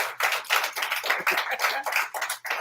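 Audience applause from a gathered crowd, dense and sustained for a couple of seconds with brief dips, heard up close and loud, with no talking over it.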